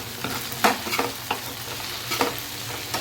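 Roasted round potatoes tipped into okra frying in a pan, a steady sizzle with several sharp clattering drops and stirs over about three seconds, close and fairly loud, no talking.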